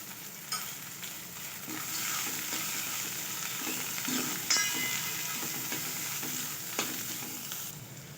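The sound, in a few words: frying mixed vegetables in ghee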